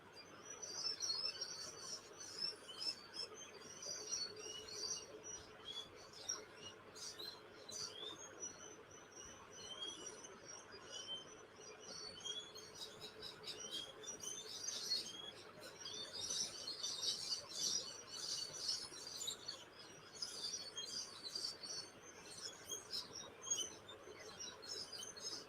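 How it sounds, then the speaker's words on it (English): Birds sing and chirp faintly in a dawn chorus, a continuous soft wash of overlapping tweets heard from a distance throughout, with no talking. "the dawn chorus"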